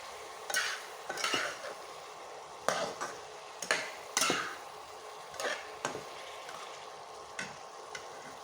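Radish ghanto is stirred in a pan with a utensil, giving irregular scraping strokes and light knocks against the metal over a soft background sizzle, close and moderately quiet.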